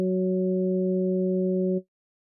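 A steady Zebralette 3 synthesizer tone made of three partials holds evenly for almost two seconds, clean and alone, then cuts off with a small click.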